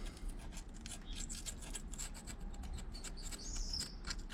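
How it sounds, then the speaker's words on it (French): A utility cutter blade scrapes old gasket material off a removed 1.9 dCi engine, making fast, repeated rasping strokes that sound close but faint. "tu prends une petite lame de cutter qui a le tétanos et tu viens racler ici le vieux joint"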